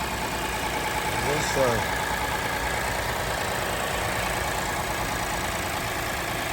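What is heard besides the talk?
Lexus IS 250 engine running after being given gas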